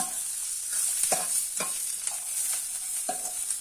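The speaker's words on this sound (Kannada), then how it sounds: "ಈರುಳ್ಳಿ ಬೆಳ್ಳುಳ್ಳಿ ಇದನ್ನ ಹಾಕೊಂಡು ಫ್ರೈ ಮಾಡ್ಕೊಬರ್ತೀನಿ" Onion and garlic fry in a pan for sambar, a steady bright sizzle running throughout while a spatula scrapes and stirs in several distinct strokes, close and moderately loud with no voices.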